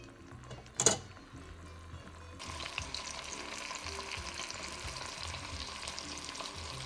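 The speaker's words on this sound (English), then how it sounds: "we're just gonna put our pork tenderloin that's been marinated right into our pan here" A marinated soy Dijon pork tenderloin is laid into a hot pan, with a sharp clatter followed by a loud, steady sizzle that continues on its own without speech.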